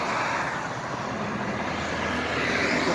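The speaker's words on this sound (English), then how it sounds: "I feel like planes starting to land at that private airport." Airplane engine noise near a small private airport: a steady, broad roaring drone that holds at a constant loud level throughout, with no talking.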